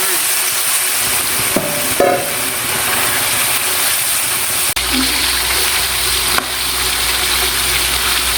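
Marinated pork ribs coated in crispy frying batter drop into hot oil and set off a loud, steady hiss. A few clatters and knocks break in, and a sharp thud comes midway through.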